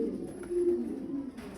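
Fancy pigeons of foreign breeds on a farm give a soft, low throaty coo, a short murmuring burst close by with light rustling at the end.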